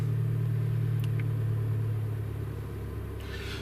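A 2018 Land Rover Discovery Sport engine runs close by with a steady low rumble and idle hum, easing slightly lower near the end, with no voices over it.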